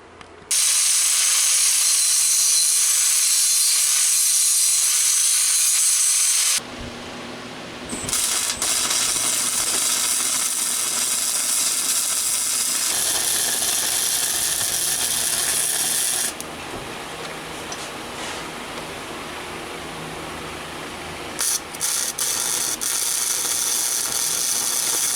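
Loud, harsh angle grinder cutting and grinding metal parts for a 5 HP motorized drift trike, sustained for long stretches with brief pauses and pitch changes as it bites into the workpiece.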